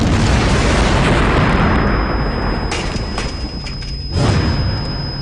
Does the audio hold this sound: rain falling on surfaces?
no